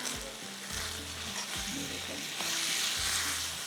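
Chopped cabbage, carrot, capsicum and green chilli being stirred in a hot pan, with a steady sizzle throughout and repeated scraping strokes from the spoon, heard up close.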